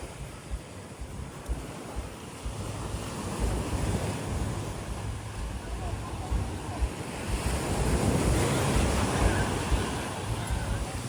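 Sea waves wash continuously onto White Beach in Boracay, Philippines, a broad steady roar of surf mixed with wind buffeting the microphone, swelling slightly louder toward the end, with no talking.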